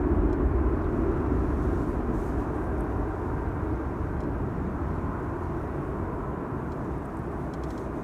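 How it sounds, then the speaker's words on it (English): A British Airways jet takes off from runway 24 at Amsterdam Schiphol Airport, its engines a steady, broad roar heard at a distance, slowly easing over several seconds with no voices. "Speedbird taking off from runway 24."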